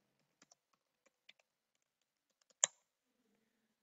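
Someone types a password on a computer keyboard, a few faint, scattered key clicks in a quiet room, ending with one sharper keystroke.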